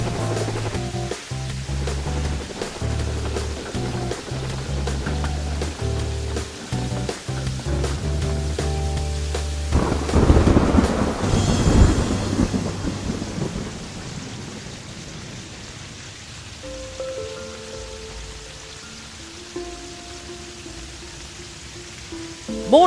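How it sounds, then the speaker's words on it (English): Heavy rain pours down while thunder rumbles and cracks, a loud, dense wash with repeated booming strikes early on, a surge of intensity near the middle, then easing into a softer, steady downpour. "Rain's nice, but it honestly gets to a point where it's fucking unbearable!"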